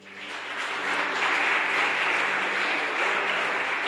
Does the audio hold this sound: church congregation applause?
yes